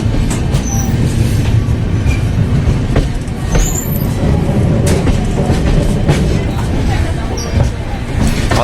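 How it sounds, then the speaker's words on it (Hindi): Kota Katra Express running at about 110 km/h, with a constant loud rumble of wheels on rails, squealing metal and rattling carriage noise, heard from inside the train. "लेकिन ट्रेन 110 चल रही है"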